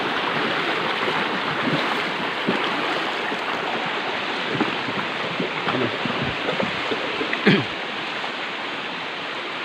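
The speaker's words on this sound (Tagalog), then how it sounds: "Ito yung sapa dito sa amin oh." A rural creek in the Bicol countryside runs in a steady, close rush of flowing water. The sound is continuous and unbroken for the whole stretch, with no talk over it.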